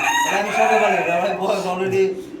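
A rooster more than a year old crows loudly and close by at a poultry and pigeon farm, one sustained call filling the short moment.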